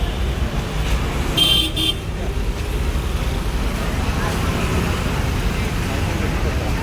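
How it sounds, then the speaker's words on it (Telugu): Heavy road traffic outside a Mumbai railway station: a continuous rumble of cars and buses with a short horn toot early on. "హెవీ ట్రాఫిక్ ఉంది."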